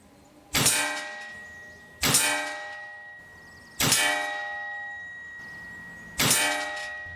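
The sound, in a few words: Hatsan JET 2 PCP pistol shooting 14.35 grain pellets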